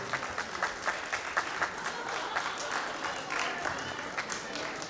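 Clapping from an audience at a function, steady and moderately loud throughout, with a voice talking over it at times.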